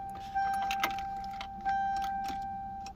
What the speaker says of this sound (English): As you can see, turning on the key, nothing. There's not a click. There's not a crank.